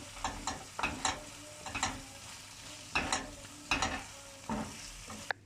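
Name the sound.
stirring potatoes with salt and chili powder in a frying pan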